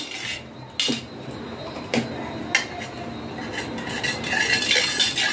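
Lukewarm water being stirred with a spoon in a metal bowl, with rhythmic scraping and sharp clinks of the spoon against the sides over a soft swishing of liquid.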